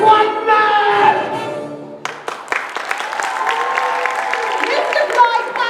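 Applause swells from a theatre audience at a community production of the musical The Mystery of Edwin Drood, breaking out after the singing ends and filling the room as steady clapping.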